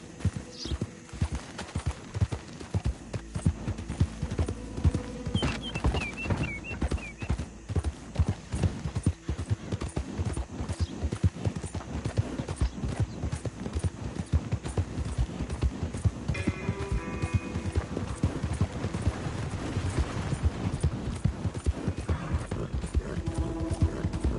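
Horse hooves clip-clop steadily and rhythmically as a rider travels in a video game, close and clear, with occasional faint snorts and brief game sounds over the continuous hoofbeats.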